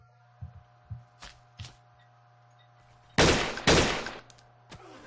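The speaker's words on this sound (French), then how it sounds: "Ah, on me tire dessus." Gunfire in the blocky first-person shooter game Blockade 3D: a few light, soft shots, then two loud, close bursts of fire.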